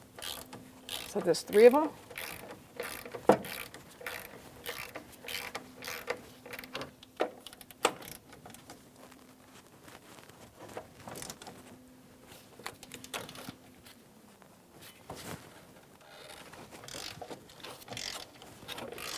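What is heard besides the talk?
3/8 drive ratchet loosening 18 mm bolts, Cadillac Escalade shock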